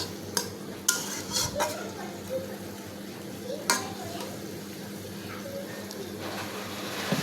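Fried tilapia pieces being sautéed in mustard masala in a pan, with scattered clanks and scrapes of a spoon against the pot over a low sizzle, close by, and a voice faintly in the background.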